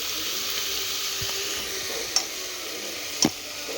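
Coriander powder and biryani masala sauté in a hot pan for egg biryani, giving a steady, close sizzle broken by a couple of sharp clicks from the stirring utensil.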